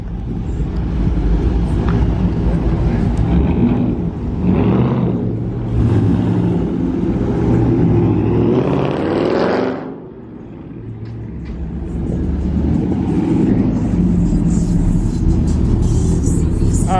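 Cars roll into a car meet where Mopar vehicles dominate, their engines rumbling loudly nearby with swelling revs, a brief lull midway, then more engine noise and wind buffeting the microphone.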